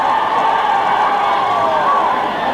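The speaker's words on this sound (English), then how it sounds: "And you can hear the crowd here" Crowd roars and cheers at a 1983 Munster Senior Club Final replay hurling match between Midleton and Borrisoleigh in Kilmallock, a loud, sustained wash of massed voices rising and falling.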